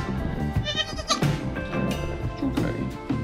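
A newborn baby goat bleats repeatedly at close range, a dense run of wavering, nasal cries filling the stretch with barely a pause.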